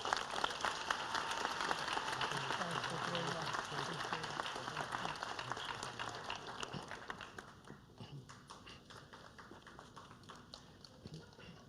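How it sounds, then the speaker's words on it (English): An audience at an academic excellence awards ceremony claps for an award recipient, a dense, steady round of applause from many hands that thins out and fades toward the end. "Let's give Anthony a round of applause."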